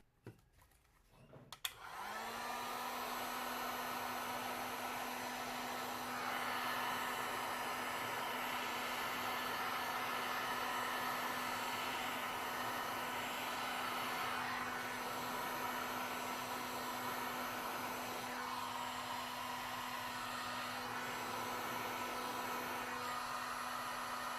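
A heat gun roars steadily on resin poured over a CD, starting after a brief click and holding a loud, continuous blowing hum to the end.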